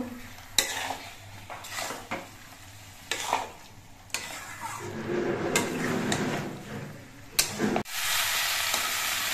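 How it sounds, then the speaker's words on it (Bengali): Garam masala powder is stirred into a potato dish frying in a pan, with steady sizzling under repeated scrapes and clinks of a metal spoon against the pan, recorded close and fairly quiet. "গরম মশলা গুঁড়ো দিয়ে নেড়ে চেড়ে মিশিয়ে নেব"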